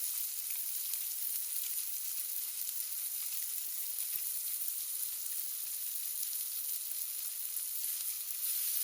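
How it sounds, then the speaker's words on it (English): Beef cooks in hot oil with ground black pepper, giving a steady, loud, continuous sizzle and crackle of frying that runs unbroken from start to finish with no voices. "Once the oil is hot, drop the meat in. Let it cook for about 30 seconds and then add half teaspoon of ground black pepper."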